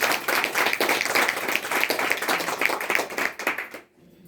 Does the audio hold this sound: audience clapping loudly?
yes